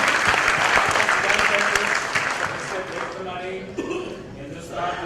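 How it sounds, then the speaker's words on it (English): A large audience applauding at an awards ceremony, dense clapping that swells then tapers off, with some voices and murmurs as it fades. "A huge round of applause, ladies and gentlemen."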